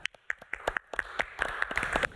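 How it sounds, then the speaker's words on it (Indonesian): Scattered hand claps from a small group in an Indonesian health talk-show studio, sparse and uneven at first, then thickening into brief close applause with no talk over it. "Tepuk tangan dong Mas Fadli"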